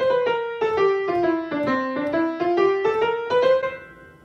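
A single melodic instrument plays an eight-note scale up and back down in a syncopated long-short jazz rhythm, clear and close, notes rising then falling then rising again, with no talking.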